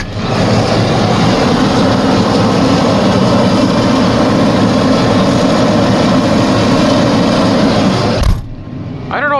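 A forage harvester chopping corn silage on a farm drones loudly and steadily with a dense, roaring engine and machinery noise that cuts off abruptly near the end, leaving quieter background sounds.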